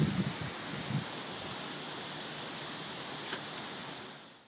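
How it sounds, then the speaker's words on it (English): Steady outdoor wind blowing on a blustery evening, a soft, even rush with a few faint rustles near the start, fairly quiet and fading out at the end. "It's just kind of funny that it's all windy and blowy."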